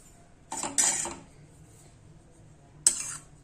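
A metal lid is set onto a pan of cabbage and chana dal bhaji, giving a close clatter and clink followed by a second brief metallic knock in a quiet kitchen.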